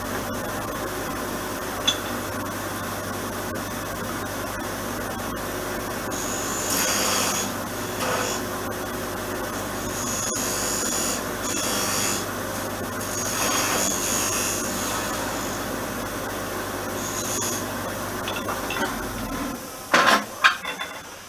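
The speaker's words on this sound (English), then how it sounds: "Put the recess on using this little tool here for its ground, so that it will give me the dovetail that I need to match my other chuck." Woodturning lathe with a small ground tool cutting a dovetail recess into a spinning workpiece: a continuous whirring, scraping cut with rising and falling intensity, close and steady, ending in a few sharp knocks.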